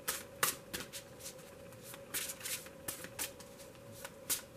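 A deck of tarot cards being shuffled close by, a run of soft riffling bursts and flicks in an uneven rhythm against a quiet room, with no voices.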